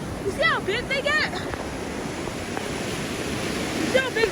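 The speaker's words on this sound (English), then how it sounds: "You see how big all those waves get?" Ocean waves roll and break on Cocoa Beach in a steady roar of surf. A few brief, high chirping calls rise above it at the start and end.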